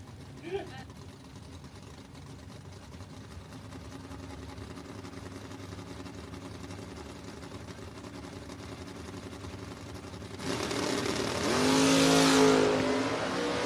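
Drag race cars launch down the strip at the Mutt and Jeff Fall Brawl: a low engine drone builds, then a loud, bright roar swells near the end, with talk over parts of it.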